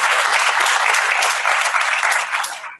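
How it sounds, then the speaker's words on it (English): Loud, dense applause fills a graduate school orientation hall as the audience thanks the technical support helper, holding steady and then dropping off sharply at the end. "Give him a round of applause."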